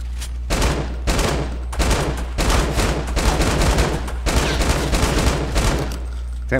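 Automatic weapon fire in Fortnite, loud sustained bursts of rapid shots with brief pauses between volleys, close and dominant with no talking.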